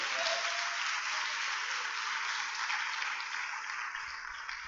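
Sustained applause from an audience at a church sermon, a dense, even wash of clapping that fills the whole stretch without pause.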